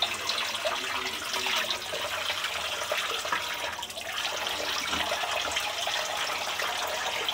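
Tap water runs steadily into a sink while raw chicken is washed, a continuous close splashing hiss with slight shifts in flow and no voices.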